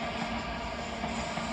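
A Class 387 Gatwick Express electric train passes near Caledonian Road in London, giving a close, continuous rumble and roar of wheels on track with no voices.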